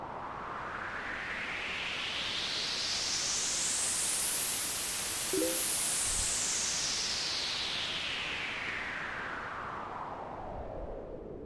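White noise sweep effect built in FL Studio, a loud hiss that rises steadily to a bright peak around the middle and then falls back down over about eleven seconds, with no voice.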